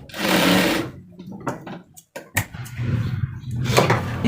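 Sewing machine stitching a belt seam, with a loud sustained run of stitching at the start, then short bursts and taps, and another steady run toward the end.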